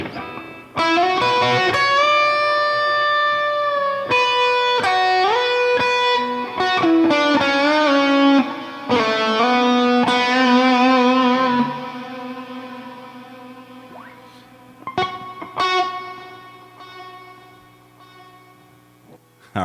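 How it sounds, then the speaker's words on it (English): A Kurzweil rack unit's laser delay reverb effect turns played synth notes into big, sweeping tones with long trailing echoes that swell, bend and decay, ending in scattered sparse hits and a fading tail. "Laser delay reverb, that's the algorithm."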